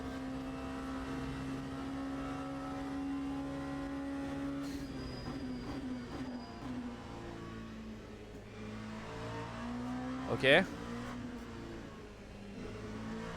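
LMP2 prototype race car engine in Le Mans Ultimate in VR, a steady high engine drone that drops and rises through gear changes, with a sharp squeal or scrape near the end and a brief spoken word.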